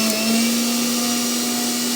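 A Tornado blender mixer grinder runs steadily and loudly at close range, its motor giving a constant high whine with a strong hum throughout, with no talk over it.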